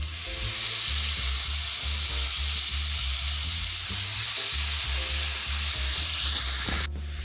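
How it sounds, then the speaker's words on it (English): Shrimp frying in melted butter in a saucepan for Cajun shrimp deviled eggs, a loud, steady, continuous sizzle with a low hum beneath that cuts off abruptly near the end. "Once your butter has melted, you want to go ahead and begin to add in your shrimp."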